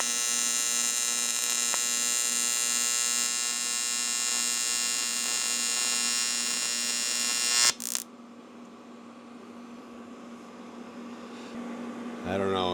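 An AC TIG welder runs as a steady loud buzzing hum with a constant tone for about eight seconds, then cuts off abruptly, leaving a quieter background hum before a brief buzz returns near the end.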